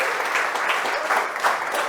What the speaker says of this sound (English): So give Mr. Giovanni Mendez a round of applause.